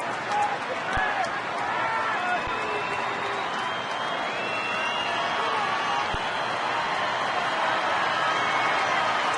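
Crowd noise at a Brewers baseball game, a steady roar of cheering and shouting from a large stadium audience that holds at an even level throughout, with scattered whistles rising above the mass of voices.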